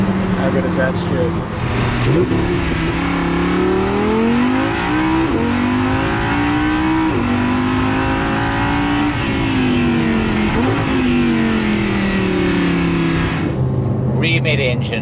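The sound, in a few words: Audi R8 LMX V10 engine accelerating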